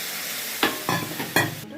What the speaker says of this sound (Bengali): পেঁয়াজ লঙ্কাটা ভাজা হয়ে গেছে, এবার ডালটা সাঁতাল দিয়ে দেবো।